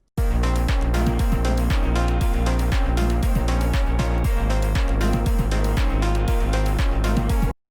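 A full melodic techno mixdown pounds along with a steady heavy kick and sustained bass, dense percussion and layered synths throughout, cutting off cleanly at the end.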